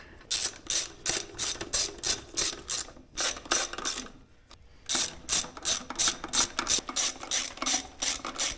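Ratchet clicking steadily in fast bursts while tightening bolts on a throttle body adapter, close and loud, with a short pause midway before the rapid ratcheting resumes.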